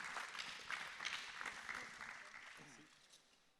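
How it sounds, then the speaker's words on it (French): Applause at the Innov'Space 2020 award ceremony, a faint, distant wash of clapping that swells and then fades away, with some voices under it. "On peut l'applaudir."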